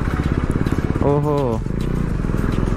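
KTM Duke 390 BS4 motorcycle exhaust while riding, a steady close engine drone with a brief rising tone from a throttle change, running under an excited voice.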